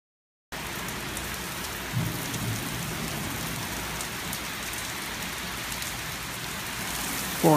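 Heavy rain pours down in a storm, blowing sideways, a dense steady hiss of drops on surfaces that starts abruptly after a short silence and stays loud and continuous, with a low thump near the two-second mark.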